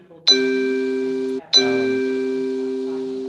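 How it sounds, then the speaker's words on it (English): Two bright electronic chime notifications ring during a livestream, the second following about a second after the first, each sustaining and slowly fading, with no talk over them. "It's beeping and there's people joining."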